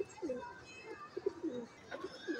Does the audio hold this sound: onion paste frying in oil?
no